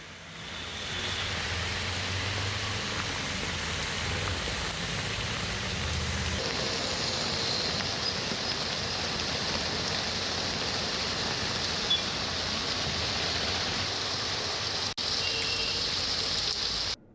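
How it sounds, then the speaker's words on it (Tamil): Heavy rain pours in Thanjavur district, Tamil Nadu, a dense continuous wash of hiss and patter that stays loud and steady throughout with no voices. "தஞ்சை மாவட்டத்தில் வெயில் வாட்டி வதைத்து வந்த நிலையில் 1 மணி நேரத்திற்கும் மேலாக திடீரென மழை பெய்தது."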